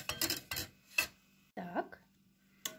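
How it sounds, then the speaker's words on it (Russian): A spoon stirs a gelatin mixture in a bowl for an apple-beer dessert, giving a few separate close clinks and short scrapes with quiet gaps between them. "Размешиваем, чтобы не было комочков."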